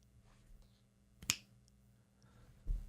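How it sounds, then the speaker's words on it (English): One sharp, close finger snap cracks out of a quiet room, followed later by a soft low thump. "If I snap my fingers, you'll forget you're gay."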